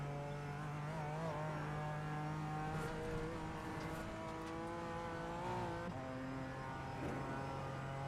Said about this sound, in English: you can just hear the engine spinning up from the wheels leaving, the rear wheels leaving the ground, like throughout this entire section